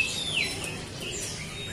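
A trucuk bird gives a few faint, high chirps over a soft background hiss, close by and brief.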